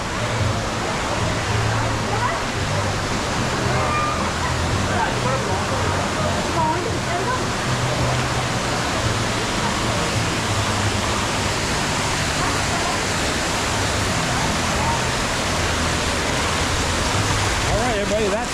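Loud, steady rushing water on the Fearless River water park ride, a dense continuous roar close by, with people talking underneath.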